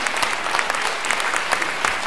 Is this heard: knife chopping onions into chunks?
no